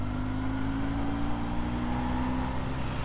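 A 1970s BMW R60/6 motorcycle engine pulls steadily at higher revs on a road ride, a loud continuous drone with a steady hum that holds level throughout.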